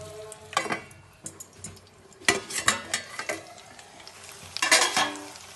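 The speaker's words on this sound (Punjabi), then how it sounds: "ਇਹਨਾਂ ਨੂੰ ਐਸ ਤਰ੍ਹਾਂ ਕਰਕੇ ਨਾ ਫਰਾਈ ਕਰ ਲਾਂਗੇ ਸਲੋ ਗੈਸ ਤੇ" Potato-stuffed green chillies cooking in a pan over a low gas flame, with bursts of scraping and clattering as they are turned, over a faint sizzle and no voices.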